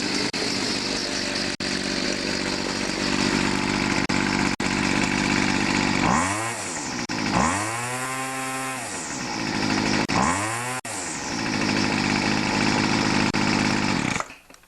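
A Weedeater XT260 gas grass trimmer engine runs steadily at close range after a carburetor adjustment. It revs up and settles back down twice, with a loud buzzing two-stroke drone throughout.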